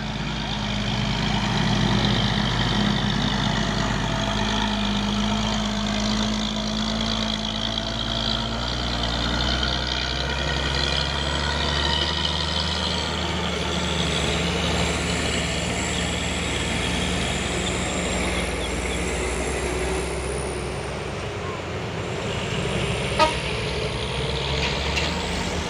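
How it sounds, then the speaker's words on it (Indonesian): A trailer truck's diesel engine rumbles steadily and loudly for the whole stretch, a deep continuous drone with shifting tone as it runs, belching thick black smoke. "Ada truk trailer si bos Surya ini, wes ganteng kali wah."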